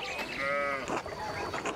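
A sheep bleats in the medieval adventure game Pentiment, a short wavering cry followed by a second softer call, fairly close and without talk.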